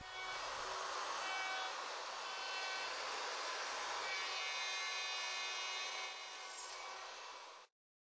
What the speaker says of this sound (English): After routing the tails